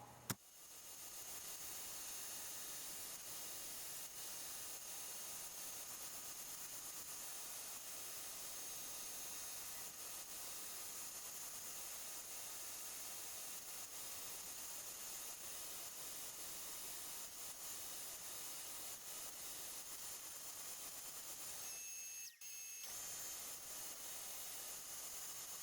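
A saw blade cuts mortises in a wood block for a chisel holder as the block passes over it again and again. A steady, hissing blade whine holds nearly the whole time, with one short dip near the end.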